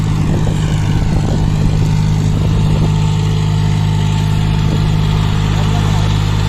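A John Deere 5105 4x4 tractor labors uphill with a loaded trolley, its diesel engine droning in a heavy, steady throb that stays loud and close the whole time.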